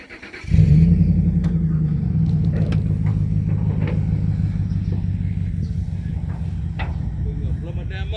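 A motor vehicle engine starts and then runs hard with a steady loud rumbling rev while backing up a trailer, with creaks and clanks over it and voices talking nearby.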